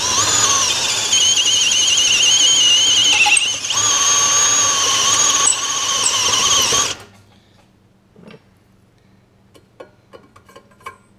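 A step bit drilling a large hole in stainless steel gives a loud, steady, high-pitched squealing whine for about seven seconds, then cuts off, leaving faint clicks and light handling noises.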